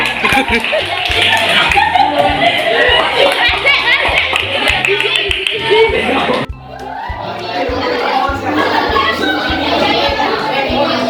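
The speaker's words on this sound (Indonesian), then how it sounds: "Tepuk tangan untuk sepuluh." Sustained applause for the winners of a school competition, with dense clapping from a crowd in a room and chatter and laughter mixed in. It breaks off briefly, then starts again.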